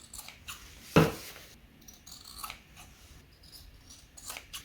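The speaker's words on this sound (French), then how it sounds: "Maintenant on va pouvoir couper un peu les angles." A single crisp snip of sewing scissors cutting the corners of fabric near a fresh seam, close and sharp, followed by faint handling rustles in a quiet room.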